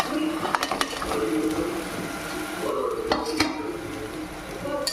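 A spoon stirs cauliflower masala with chili powder, cumin and coriander powder in a pan. Steady sizzling runs throughout under a few scraping strokes and clinks against the pan.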